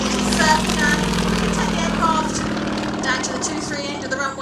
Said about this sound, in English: Take the aircraft down to the 2-3 end of the runway to turn round